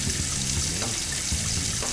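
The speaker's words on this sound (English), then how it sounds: "she's gonna let the water run over the soap" Water runs steadily from a tap during hand washing, a close, continuous splashing hiss that lasts the whole clip with no talk over it.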